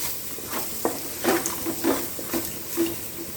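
A spoon stirring a chili powder mixture in a pan for Nellore-style fish curry, giving soft scraping strokes and light clinks against the pan at a slow, uneven rhythm, close up with faint sizzling underneath.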